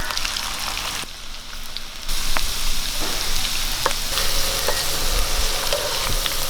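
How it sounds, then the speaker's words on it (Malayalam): Ivy gourd pieces fry in hot oil, a loud, dense crackling sizzle close by that swells after a brief quieter moment and then stays steady, dotted with occasional sharp pops and clicks. "എണ്ണ ചൂടായിട്ടുണ്ട്. ഇനി നമുക്ക് കോവയ്ക്ക എടുത്തിട്ട് കൊടുക്കാം."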